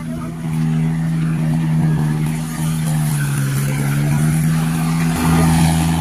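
A motorbike engine runs near a village field with a steady, buzzing drone. Its pitch sags a little midway, then shifts and picks up toward the end, with no voices over it.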